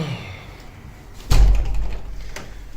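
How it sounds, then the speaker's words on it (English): A door slams shut indoors in a former factory building, one loud sharp bang followed by a brief rumbling decay, with a fainter knock shortly after. "Get that door nice and closed."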